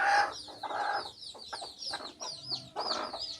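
Hens and chicks being fed broken rice cluck and peep nearby in short, uneven bursts, with high chirps from the chicks over lower clucks.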